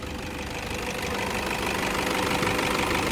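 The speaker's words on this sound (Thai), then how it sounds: "เครื่องเดินนิ่งเหมือนเดิม" A 2014 Toyota Vigo Champ Smartcab Prerunner 2.5G diesel engine idles smoothly, a steady close mechanical hum with fine regular ticking and no speech.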